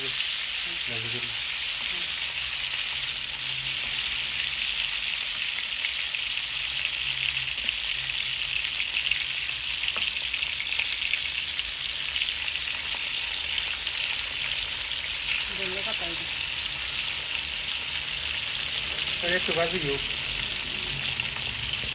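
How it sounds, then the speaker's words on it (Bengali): Brinjal (eggplant) slices fry in hot oil with a steady, continuous sizzle throughout, while a voice briefly speaks over it a few times near the start and toward the end. "আমাদের বেগুন হালকা পাতলা ভাজি গেছে"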